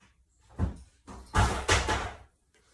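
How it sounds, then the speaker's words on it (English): A few loud, close thumps and clatters in quick succession as a cat knocks a chair over onto a living room floor, with quiet between. "One of the kitty cats must turn a chair over in the living room."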